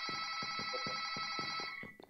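A telephone rings steadily close by, a bright continuous warbling electronic tone that holds for about two seconds, with soft clicking underneath.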